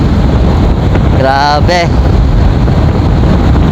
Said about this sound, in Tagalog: Lakas talaga ng hangin.